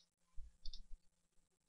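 A computer mouse gives soft clicks while someone deletes messages on Facebook, a few faint, irregular clicks close by in an otherwise quiet room with no talking.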